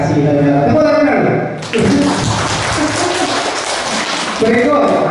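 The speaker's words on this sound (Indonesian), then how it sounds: "Tepuk tangan dulu." An audience of men and women at a positive-culture training session breaks into a burst of loud, dense clapping that lasts about three seconds. Someone talks just before and after it.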